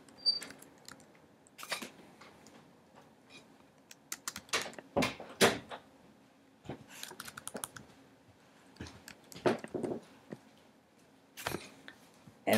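Someone types a name on a computer keyboard in a quiet room, producing irregular bursts of crisp key clicks and a few louder taps spread over the whole stretch.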